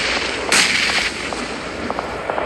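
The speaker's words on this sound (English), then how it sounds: "Look at the slight waste of grenades there coming through from APG." Grenade blasts in a competitive PUBG Mobile esports match: one loud broadband burst stands out, followed by a few fainter sharp pops and a steady background of game noise.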